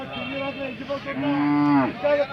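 At a cattle fair, a cow lets out several close, loud, drawn-out moos, the longest one deep and sustained, with farm background noise around them.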